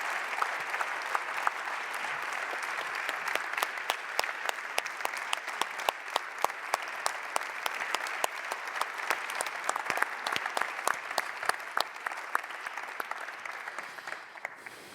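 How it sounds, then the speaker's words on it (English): An audience at the EuroPCR 2019 ETHICA Award ceremony applauds Jean-Marco with sustained, even clapping, crisp individual claps standing out across the whole stretch. "Make an applause to Jean-Marco"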